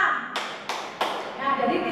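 An audience of women clap together on cue, three sharp group bursts in quick succession, close and fairly loud, with a murmur of voices and shuffling between them.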